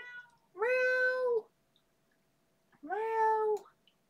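A hungry cat gives two clear, drawn-out meows, each nearly a second long, separated by a quiet pause, close and fairly loud.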